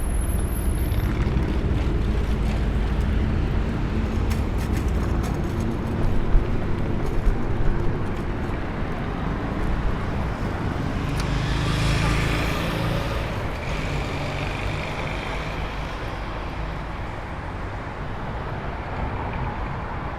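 Dense Toronto road traffic roaring past a scooter, cars and trucks passing close in a continuous loud rumble with wind noise and occasional louder swells as heavier vehicles go by.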